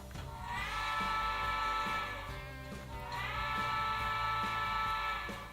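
A D&RGW flat-top three-chime train whistle in a railway video game sounds twice, each long chord-like sustained blast swelling in and fading with a slight echo, over a low rumbling background.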